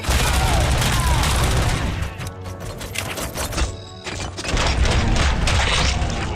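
Rapid gunfire in the Robocop: Rogue City video game bursts in dense, loud volleys, briefly thins out, then resumes as a heavy, continuous clatter of shots and impacts.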